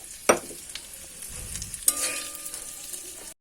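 Quiet frying of fish in a pan with a soft sizzle, punctuated by a couple of sharp clinks and a brief hum near the end.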